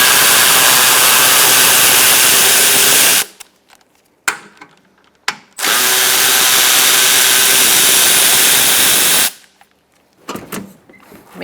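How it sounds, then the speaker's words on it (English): A 10mm socket driver spins out two headlight assembly bolts on a 2007-2017 Ford Expedition 5.4L V8. It comes as two long, loud, steady whirring bursts of about three seconds each, separated by near-silent pauses with small clicks and handling noises. "Using a 10mm socket, we're going to take out these two bolts holding in the headlight assembly."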